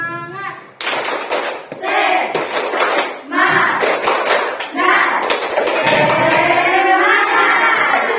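A classroom of students performing the "tepuk semangat" clapping chant, with rhythmic bursts of loud group clapping mixed with children's voices chanting in unison, close and energetic.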